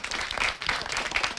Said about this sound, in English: we can clap for each one